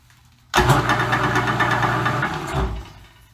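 Vintage lathe with auto-drive, partly reassembled, switched on: an abrupt start into a steady close motor and gear whir with a low hum, running for about two seconds before a thump and spin-down.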